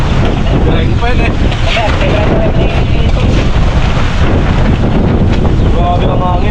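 Strong wind roars and buffets the microphone in a loud, constant rush, with faint voices briefly audible beneath it.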